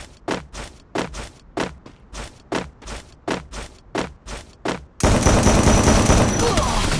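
Rapid bursts of gunfire in the Free Fire battle-royale video game, a steady run of about a dozen sharp shots followed by a sudden loud, dense barrage of continuous shooting and impacts.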